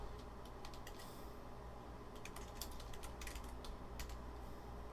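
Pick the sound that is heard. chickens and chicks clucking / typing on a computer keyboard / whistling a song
typing on a computer keyboard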